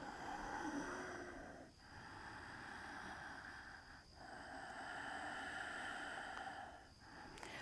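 Slow, deep breaths taken while holding a yoga pose, about three long airy inhale-exhale cycles close and quiet, each separated by a short pause.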